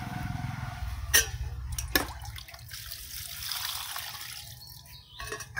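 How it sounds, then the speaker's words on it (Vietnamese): Running water streams over glutinous rice that was soaked overnight, rinsing it before it is used for vegetarian bánh tét. The tap flow is continuous and close, with a few sharp splashes and clunks. "xả nước cho nó thật là sạch."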